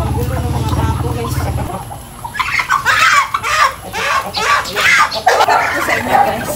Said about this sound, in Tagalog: Paggulo ng mga pato